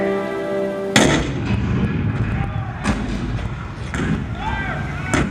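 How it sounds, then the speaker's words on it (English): A heavy cannon boom strikes suddenly in a theme park attraction's narrated Fort Sumter scene, followed by further rumbling blasts and echoing thuds, loud and dramatic throughout. "The cannon spoke for war, bitter, violent, and devastating."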